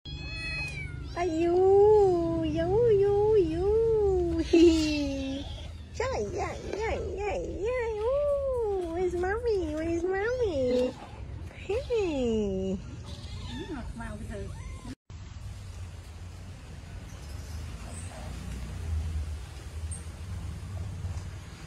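Cats and kittens meow repeatedly in a long run of rising and falling cries, some drawn out into caterwauls, fairly close, with voices and household noise underneath and a quieter stretch toward the end.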